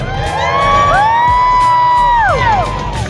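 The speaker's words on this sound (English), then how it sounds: "And the crowd goes wild" A crowd cheers and whoops loudly, with sustained rising and falling shouts and high-pitched yells layered together across the whole moment, following a juggling trick.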